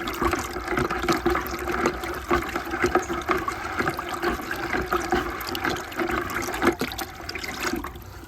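Descaling solution for a tankless water heater is stirred in warm water in a bucket, giving a steady close-up sloshing and swirling with small splashes throughout.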